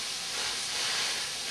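Corn goes into a pot of boiling salted water, giving a steady, loud, unbroken hiss of steam and bubbling that stays even throughout.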